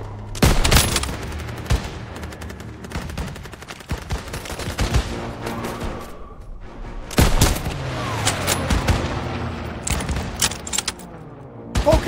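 Battle gunfire from Call of Duty WW2, with dense bursts of rifle and machine-gun fire, loud booming shots and rapid volleys running throughout.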